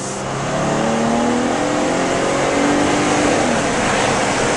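A 2010 Jeep Grand Cherokee pulls away after being shifted into drive, its engine rising in pitch as it accelerates, loud and close with strong wind rush throughout.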